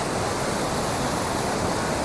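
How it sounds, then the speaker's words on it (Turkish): A rushing waterfall in the Norwegian fjord town of Hellesylt pours steadily, a dense, loud, even roar of falling water with no breaks and no voices over it. "Kasabanın gürül gürül akan şelalesine"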